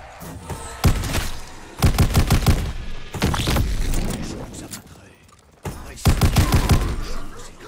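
An upgraded pump shotgun fires in a Call of Duty zombies map. Rapid bursts of loud, close blasts come in several clusters separated by short gaps, with someone speaking excitedly over the action.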